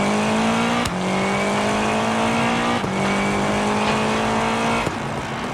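Lancia Delta Integrale rally car engine at full throttle on a rally stage, loud and close, rising in pitch through the gears with three sharp shift breaks and constant roar.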